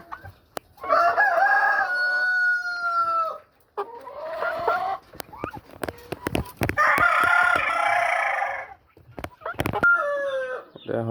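A three-month-old Aseel fighter chicken crows in long drawn-out calls and clucks between them, loud and close, with sharp knocks and handling noises in the gaps.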